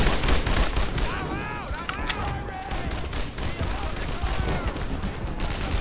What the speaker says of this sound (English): there's a machine gun to my right